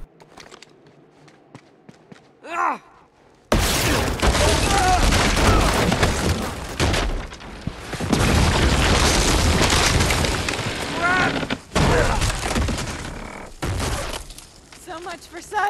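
Loud, dense bursts of explosions and gunfire from an RPG firefight in Uncharted 2: Among Thieves, set at a monastery, erupting after a quiet moment and continuing almost without break, with a player's voice heard over the action.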